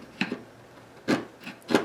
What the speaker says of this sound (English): So I'm taking a 1/4 inch chisel